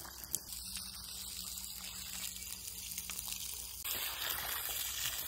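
Stream water pumped by a submerged bilge pump powered from a portable jumper flows and gushes in a steady, quiet outdoor wash, growing a little louder near the end.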